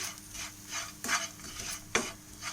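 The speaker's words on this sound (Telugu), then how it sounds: "పసుపు, ఉప్పు, కారం వేసి బాగా కలబెట్టండి" A spoon stirs and scrapes through okra fry in a pan with turmeric, salt and chili powder, a series of soft rhythmic scraping strokes with a light sizzle underneath, close and fairly quiet, no voices.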